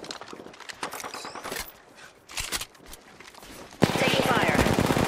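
Gunfire in Apex Legends: scattered shots and short bursts at first, then a sudden loud sustained automatic volley close by at the end.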